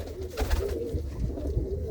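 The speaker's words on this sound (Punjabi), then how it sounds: "ਇਹ ਕਬੂਤਰ ਆਪਾਂ ਖਰੀਦਿਆ ਸੀ" A pigeon coos in low, throaty rolls close by, repeating in a soft, steady rhythm with no other sound over it.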